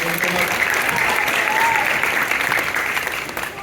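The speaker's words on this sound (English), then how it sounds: "let's have a round of applause for Elliot and Nate" An audience of parents and students at a school science fair presentation gives two student volunteers a round of applause, dense continuous clapping from a crowd, loud and even, tapering slightly near the end with some voices mixed in.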